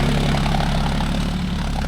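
A John Deere 5050D 4WD tractor engine runs steadily in a field, a continuous low droning rumble with a strong low hum, close and loud throughout with no talk.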